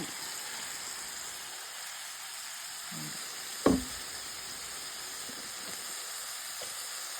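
Water poured into a hot pan of vegetables stir-frying, producing a steady hiss of steam and sizzle with a single sharp knock of a utensil against the pan midway; no talking.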